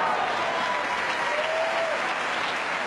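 Wimbledon tennis crowd clapping in a dense, steady wash of applause, loud and continuous throughout, with a faint whistle rising above it.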